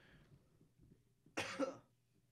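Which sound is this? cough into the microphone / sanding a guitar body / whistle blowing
cough into the microphone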